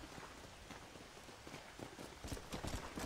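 Horse hooves clip-clop at a walking pace in the Red Dead Nightmare video game, a fairly faint, irregular run of soft hoof beats without speech.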